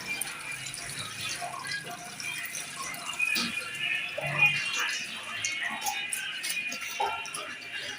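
Fish are rinsed under running water in a kitchen, with a steady trickle and soft splashing and sloshing as the pieces are handled, fairly close and moderately quiet.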